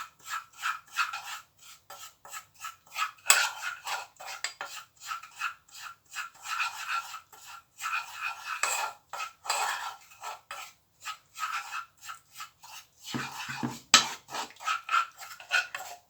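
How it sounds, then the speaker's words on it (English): Melting jaggery with instant coffee is stirred in a pan, giving a steady rhythmic scraping and rubbing, stroke after stroke, close and moderately loud with brief pauses. "So I have to keep stirring this, not too much until it melts."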